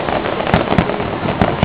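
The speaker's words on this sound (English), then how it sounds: "Fireworks. There you go." Fireworks bursting over a city skyline beside the Hotel Laurier, a steady crackling roar punctuated by several sharp booming reports, loud and fairly near.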